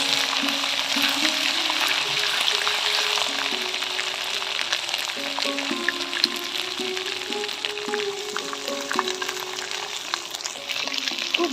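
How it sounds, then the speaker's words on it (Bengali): Tempering spices sautéing in a pan for vegetarian Bengali khichuri, a steady loud sizzle with occasional stirring scrapes, close and continuous with no talking. "ভালো করে আমি এখন কষিয়ে নেব, কাঁচা গন্ধটা যেন না থাকে।"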